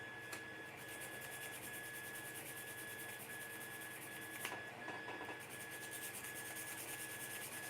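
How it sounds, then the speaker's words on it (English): Sandpaper worked gently over a small bulge, a faint, steady rubbing rasp that continues unbroken for several seconds, with a slightly rougher stretch midway and no voices. "So take a bit of sandpaper."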